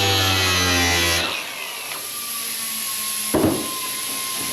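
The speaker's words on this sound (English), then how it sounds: "You don't want to grind too far because you still want to maintain the lineup." Power grinder working on the rusty trunk of a 1966 Impala SS, running loud and steady for about a second before winding down, then a faint whine with a brief sharp burst of grinding near the end.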